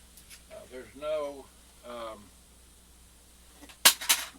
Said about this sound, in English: oops, dropped that microphone.